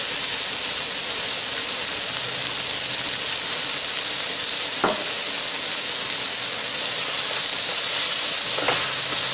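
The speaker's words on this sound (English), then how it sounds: "The tomatoes are starting to blister. The sausage is browning up." Gnocchi, chicken sausage and tomatoes sizzle in a camp skillet outdoors, a loud, steady hiss with a couple of brief clicks and no talk.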